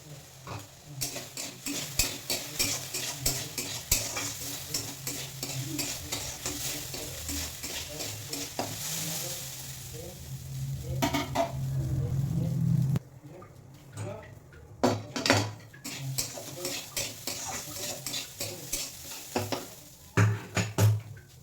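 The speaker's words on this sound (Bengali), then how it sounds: "দিয়ে সামান্য চালটা ভেজে নিলে গোবিন্দভোগ চালের যে স্মেলটা আছে সেটা আরও মানে বেড়ে যায়" Gobindobhog rice lightly fried in oil and stirred in a pan, with repeated spoon scrapes and clinks against the metal over a low sizzle, broken by pauses and occasional nearby talk.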